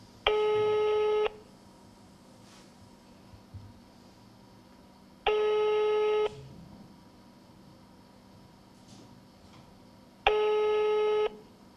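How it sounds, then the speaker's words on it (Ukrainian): A telephone busy tone after an unsuccessful redial: three loud, evenly spaced tone bursts about a second long, separated by quieter line noise with faint clicks. "На цьому телефонна розмова перервалася. Спроба дозвонитися ще раз була безуспішною."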